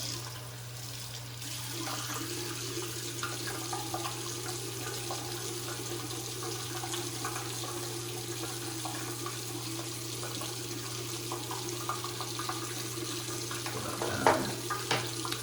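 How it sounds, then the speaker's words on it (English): Running tap water splashes steadily into a sink as hands are rinsed off before cleaning a straight razor, a continuous moderate wash with a low steady hum underneath and a brief louder splash near the end. "Just wash the hands off and give them a dry before we clean it."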